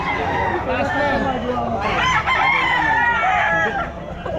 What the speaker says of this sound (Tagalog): Gandang manok na yan.